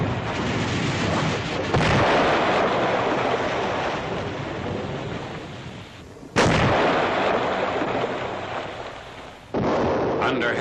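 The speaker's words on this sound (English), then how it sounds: "Under heavy enemy fire" Artillery and gunfire during the Rhine river crossing, heard as a continuous heavy roar of distant shelling and firing, broken by sharp loud blasts near the middle and end.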